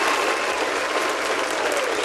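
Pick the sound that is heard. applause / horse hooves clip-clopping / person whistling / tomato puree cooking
applause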